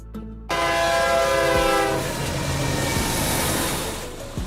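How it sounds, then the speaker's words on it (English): An oil train hauling tank cars of crude or petroleum sounds a loud, sustained horn chord as it arrives, with rushing wheel noise and rail clacks carrying on beneath the blast. "Oil train. Trains that transport oil, including specialized cars designed to carry crude oil or other petroleum products."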